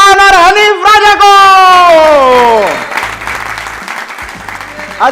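A studio audience on a comedy talk show welcomes guests Hanif Raja and Kashif Khan with scattered applause. It comes up softly after a host's loud, drawn-out announcement and stays fairly quiet until a voice returns at the end.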